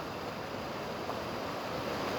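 Steady rushing water outdoors among trees, a continuous broadband wash with a faint breezy edge, close and even throughout, with no voices.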